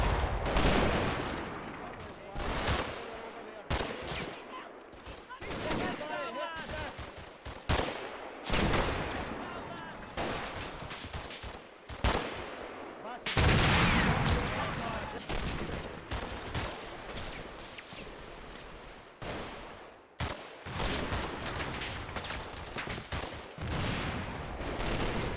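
Gunfire rings out in the Combat Mission game, Operation Epsom, as a British platoon section lays enfilade fire on attacking Germans: dense, irregular volleys and sharp shots throughout, with some talk mixed in.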